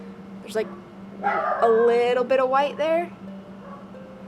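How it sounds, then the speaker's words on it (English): Dogs in a crowded neighborhood bark and yip in a cluster of sharp, fairly close bursts through the middle of the clip, with someone speaking quietly before the barking starts. "Please excuse the dogs."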